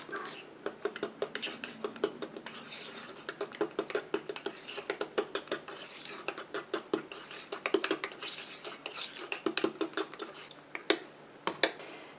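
A utensil mixing in a bowl, quick irregular clinks and scrapes repeating close by at a brisk rhythm for several seconds.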